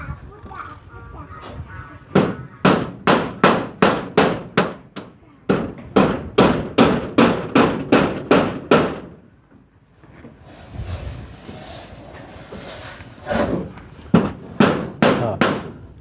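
Nails being driven while building a pipe structure outdoors, sharp hammer blows struck in fast rhythmic bursts of about eight to ten hits, pausing briefly, with a quieter stretch of background sounds before a final burst of strikes.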